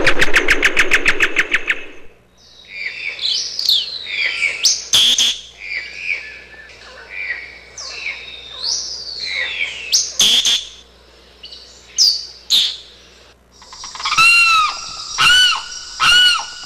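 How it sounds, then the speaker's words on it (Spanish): Three bird species' calls played back one after another: varied whistled chirps, rising and falling tweets and sharp clicks, fairly loud and alone after an opening burst of engine-like buzzing. "Sonido de las aves, por favor."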